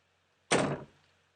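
A single door thud in the Ao Oni horror video game, a sharp bang of a locked door that strikes at once and fades over about half a second, alone against near silence.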